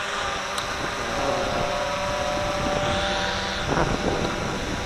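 A Wltoys V303 GPS quadcopter drone flies overhead with a steady, buzzing propeller whine, heard at moderate distance against wind noise on the microphone and holding fairly constant throughout.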